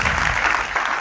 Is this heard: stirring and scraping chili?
no